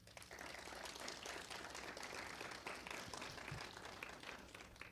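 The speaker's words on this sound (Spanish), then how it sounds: "le brindamos un cálido aplauso" Warm applause from an audience at a forum on ritual calendars, festivals and cooking, steady, even clapping heard from a distance at low level throughout.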